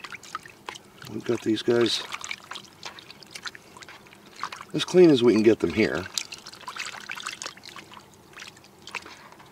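Water holding morel mushrooms is stirred and sloshed by hand, with soft splashing and trickling heard beneath a man's close, steady talk.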